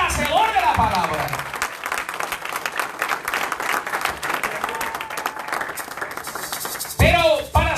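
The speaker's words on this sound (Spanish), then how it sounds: "Denle aplausos a Dios en esta hora." A congregation applauds during a church service, a dense stretch of clapping that carries steadily under a preacher's voice before a louder vocal burst near the end.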